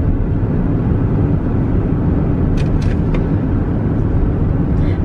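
A car drives steadily with a loud, constant road rumble and engine drone heard from inside, with a few faint high clicks or rattles in the second half.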